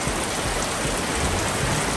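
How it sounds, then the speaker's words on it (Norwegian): Heavy rain pours down at sea on a boat, a loud dense roar of drops drumming steadily on the deck with no voices. "Og plutselig kom regnet."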